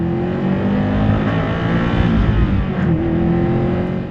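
A 400 HP Subaru WRX STI runs steadily on a long highway trip, its engine and road noise droning continuously and loud with no break.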